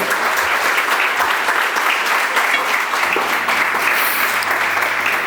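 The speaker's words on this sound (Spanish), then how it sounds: "Denle un aplauso al Señor" A church congregation applauding in praise, dense continuous clapping from many hands filling the room at a loud, even level for the full stretch, with no break.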